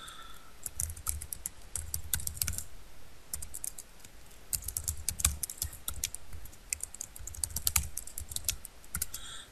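Fingers typing a username on a computer keyboard, with uneven bursts of close key clicks and short pauses between groups of strokes, steady and fairly quiet throughout.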